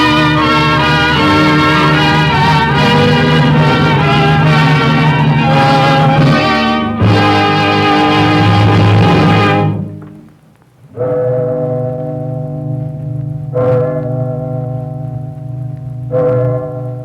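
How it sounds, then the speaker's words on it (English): The Liberty Bell rings in loud, full strokes that are then left to decay into long resonant hums. Several strikes follow, with a rich, booming, bell-like tone and no talking. "This is the sound of the Liberty Bell."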